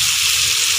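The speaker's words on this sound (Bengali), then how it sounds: "আমি আরও কিছুক্ষণ পেঁয়াজটা এইভাবে নাড়ব" Onions frying in a pan for fish egg kofta curry, giving a steady hiss and sizzle with soft low scraping as they are stirred.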